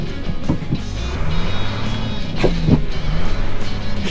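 A car engine roars steadily and loudly up close as the stuck vehicle's wheels spin, with the engine rising slightly in the middle. Rough scraping and clunking sounds come in under the engine noise, and nobody speaks.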